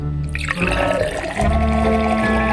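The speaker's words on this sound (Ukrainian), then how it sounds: "Тепер переливаємо у келих. Заливаємо молоком." Milk pours into a glass for a cocktail, a close, continuous gurgling fill with a rising ringing tone as the glass fills, and no voices.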